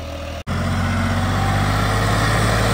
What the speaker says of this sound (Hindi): टर्बो लग रही है, उसका फैन चल रहा है।